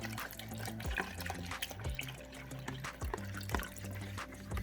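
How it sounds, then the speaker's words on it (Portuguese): Cold water pours steadily into a bowl of dissolved gelatin for a chocolate flan dessert, a continuous close splashing trickle with no talking. "Mexeu e vamos colocar água gelada."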